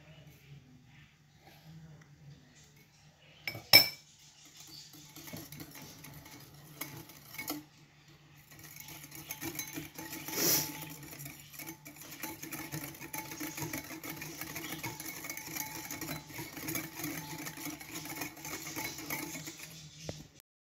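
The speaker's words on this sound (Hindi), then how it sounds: "इसको मैं करूँगी अच्छे तरीके से मिक्स।" Cream and powdered sugar being stirred together in a bowl, a steady soft scraping and rustling texture with one sharp knock near the start, continuing close and moderately loud throughout.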